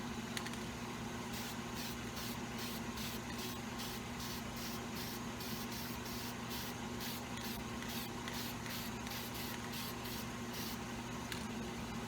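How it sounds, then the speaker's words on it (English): Black dye sprayed onto the edges of a Tom Ford leather item during restoration, heard as a steady run of short, evenly spaced hissing spray bursts over a faint constant background hum. "I'm going to come in with a little bit of black, spray it on the edges, just to give it some depth."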